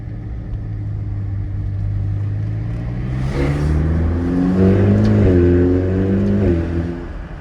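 A car engine revs up, its pitch climbing in steps through about four seconds of acceleration before easing off, loud and close, with no talk.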